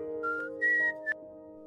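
A whistled imitation of a bird singing, a few short clear melodic notes with rising and sliding pitch, heard alone and close.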